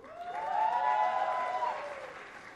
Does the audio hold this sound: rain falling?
no